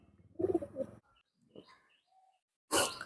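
A few soft, low coos from high-flying pigeons close by, then a pause and a short, sharp flutter of noise at the end.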